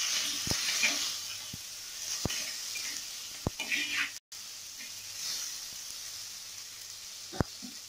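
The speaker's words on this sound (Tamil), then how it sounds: "பச்சை மிளகாய், வரமிளகாய் ஆட் பண்ணிக்கலாம்." Green and dried red chillies fry in oil with garlic, a soft sizzling hiss broken by several sharp pops and crackles, close by and without speech.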